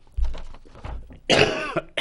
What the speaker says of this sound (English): I'm getting over this cough.